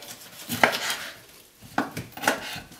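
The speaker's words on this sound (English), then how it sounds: "here I'm cutting up the peppers" A kitchen knife chops peppers for sofrito on a cutting board, with three or four sharp, close cuts spaced out and no talking.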